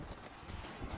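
Strong wind gusts roar steadily at the seashore, a loud, continuous rushing buffet across the whole moment with no voices.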